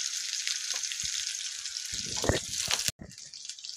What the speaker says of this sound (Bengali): এটাকে এবার নেড়ে একটু ভেজে নেব।